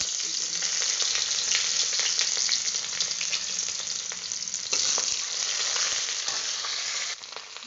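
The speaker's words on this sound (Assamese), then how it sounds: "এয়া পিঁয়াজ এটা জ্বলা দিছোঁ" Chopped onion and chili frying in hot oil in a pan, a dense, continuous crackling sizzle with scattered pops, close and loud throughout, no talking.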